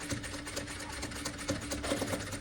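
Sewing machine stitching a vest's lining fabric along a bias-cut edge, running steadily and slowly with a continuous close mechanical whir and rapid needle clatter, no voices.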